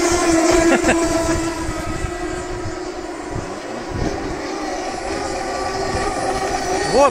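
A loud, steady engine drone with a strong tonal hum from a model racing boat engine with a flexible shaft at a ship-model competition, running continuously with slight rises in pitch, close by.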